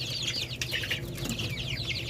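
Nineteen-day-old chicks kept in a cage chirp and peep busily in overlapping, high calls, with a low steady hum in the background.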